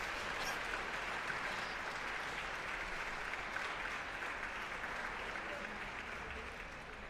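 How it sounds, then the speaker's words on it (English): Round of applause at a speed-puzzling championship final, a long, fairly faint and distant wash of many hands clapping steadily, slowly tapering toward the end, with no talking. "there was a round of applause"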